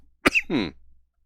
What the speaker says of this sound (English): I got a weird dry cough right now.